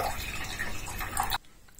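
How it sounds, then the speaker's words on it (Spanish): Distilled water is poured into a drinking glass in a steady, close trickle lasting over a second, then cuts off abruptly into near silence. "Voy a llenar este vaso con agua destilada y mediré el valor TDS."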